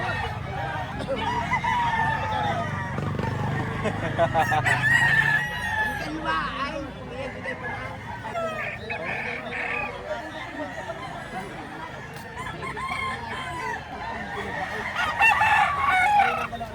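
Several roosters, gamefowl, crow repeatedly amid clucking fowl, some near and some farther off, with people talking over the noisy flock throughout.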